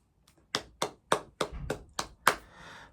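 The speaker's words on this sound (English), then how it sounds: "let's applause to them" About seven sharp, close hand claps in a quick, slightly uneven run, a brief round of applause for award winners from a small group or a single person.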